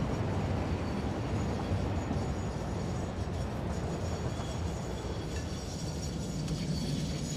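A train rolls steadily along the rails in the factory-building game Satisfactory, a continuous loud rumble with faint clickety-clack, heard alone without speech.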